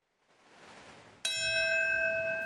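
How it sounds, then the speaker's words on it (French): A single bell strikes to open a minute of silence at a September 11 memorial, its bright ringing tone sustaining after a soft rising hush, clear and resonant with no talking. "La cloche sonne pour débuter la première minute de silence"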